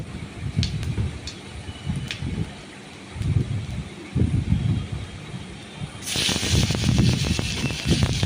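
Dried red chillies and five-spice seeds fry in hot oil in a pan. Soft, uneven crackles and pops come first, then a louder continuous sizzle takes over near the end.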